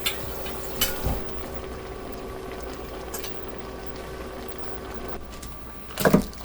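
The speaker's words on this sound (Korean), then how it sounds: "이렇게 졸여주면 두부조림 완성" Tofu braising in sauce with scallions and chili peppers, simmering down in a pan, a low steady bubbling hiss broken by a few clatters near the start and a louder knock at the end.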